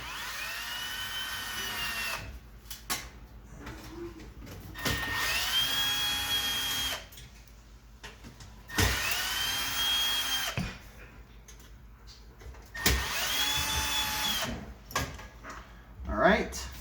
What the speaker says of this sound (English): Get my electric screwdriver again.